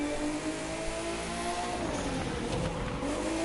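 A Porsche 911 Carrera RSR Turbo races in The Crew 2 through Los Angeles, its engine droning loud and steady with a gear shift and a renewed rise in pitch near the end.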